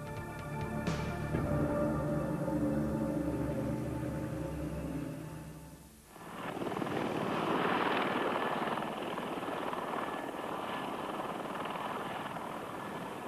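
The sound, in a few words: helicopter with NOTAR system flying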